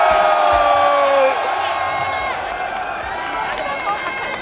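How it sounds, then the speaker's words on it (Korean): A large outdoor rally crowd in Daejeon demanding Park Geun-hye's resignation cheers and shouts as one loud, sustained roar. A voice rises over it near the start, and the noise eases slightly before holding steady. "여러분의 큰 박수와 함성으로"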